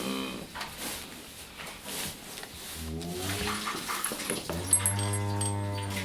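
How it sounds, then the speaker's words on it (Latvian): Small dog vocalizing in a countryside home, a few yelps and whimpery barks rising toward the end, fairly close over a noisy background with no talking. "Reja."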